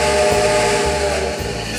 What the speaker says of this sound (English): The whistle audio is a 5 chime